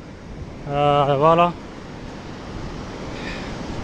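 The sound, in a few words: ocean waves at the surf spot in Taghazout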